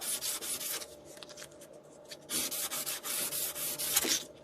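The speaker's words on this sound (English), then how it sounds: "with some light sandpaper so the glue sticks" Light 150-grit sandpaper rubs back and forth on a model ballast wagon part before gluing, quiet scratchy strokes in short bursts with a pause in the middle, no voices.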